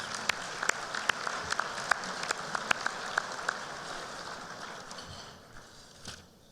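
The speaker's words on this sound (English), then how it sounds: "Let's give them a round of applause." Audience applause for standing college students at a 2019 business forecast event, a light steady patter of clapping with sharper individual claps on top, fading out toward the end.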